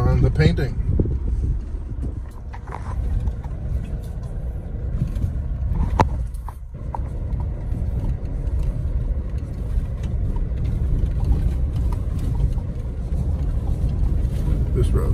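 A car drives on a bumpy, partly unpaved road in the Philippines, with a steady engine and road rumble, wind buffeting and occasional jolts, under intermittent talking.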